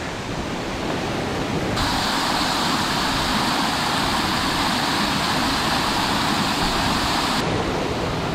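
A waterfall cascading beside a mountain bike trail in the Vallée Bras-du-Nord: a steady, loud rushing roar of falling water that fills the whole clip without a break, with no voices over it.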